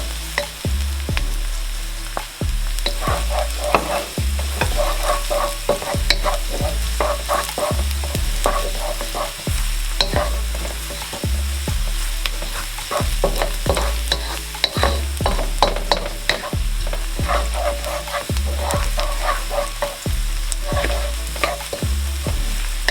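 Garlic fries in a pan over medium heat for Chai Tow Kway radish cake, a steady close sizzle broken by regular rhythmic stirring and scraping strokes throughout, with no voices.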